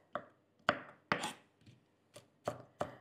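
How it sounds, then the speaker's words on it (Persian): A knife chops walnuts finely on a cutting board, seven uneven thuds close up, some with a brief crunch, no voices. "نگینی ریز ریز خوردش بکنید"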